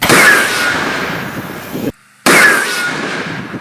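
A supersonic baseball cannon fires a baseball at over 1,000 miles an hour, giving a loud, explosive blast with a roaring burst that cuts out briefly and then resumes, with no talking.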